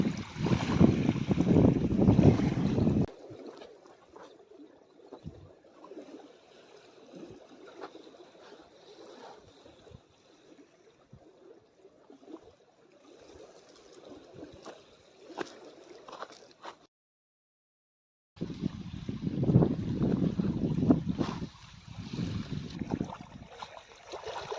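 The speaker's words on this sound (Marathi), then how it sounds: "मस्त लाटा अशा येऊन राहिल्या मस्त समुद्राच्या तशा" Water of a village river laps and gurgles in small waves, loud and close at the start and end with a quieter stretch between, mixed with wind buffeting the microphone and a brief dropout near the end.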